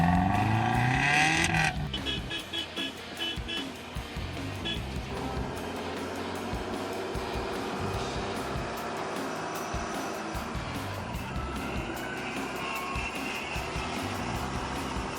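A 1996 Subaru Impreza wagon on winter tires churns through about 30 inches of fresh powder, its engine droning loud and steady with a rough, straining roar and a louder burst at the very start.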